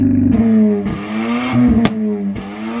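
A deep Mazda RX7 FD sports car engine idles and revs with a rumbling exhaust, punctuated by a few sharp pops and bangs, close and loud.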